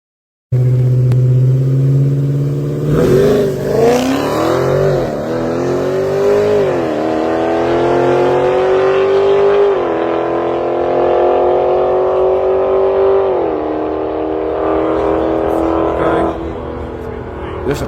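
Race cars roar down a quarter-mile drag strip, engines revving loud and continuous with rising pitch sweeps as they accelerate, one run blending into the next.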